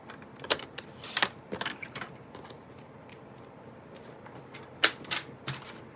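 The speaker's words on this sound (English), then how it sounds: "So let's go ahead and cut this to 1/2 inch." Scissors snip through a paper strip for card making in a series of short, crisp cuts with pauses between them, close by and with no talking.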